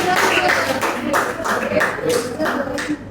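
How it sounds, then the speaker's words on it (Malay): A classroom group claps hands in a steady, quick rhythm during an Islamic studies lesson on aqidah and sirah, with a teacher's voice talking over the repeated claps. "bagus, tepuk tangan"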